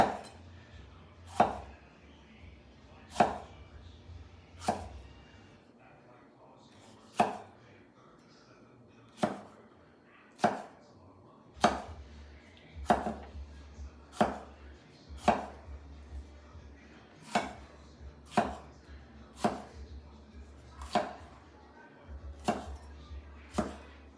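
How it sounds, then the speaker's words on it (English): A knife julienning green pepper into very fine strips on a cutting board, with about twenty crisp, evenly spaced chops in a steady rhythm, close and clear with no talk. "I won't need all this green pepper, about half of it. And just gonna julienne it into very fine little strips."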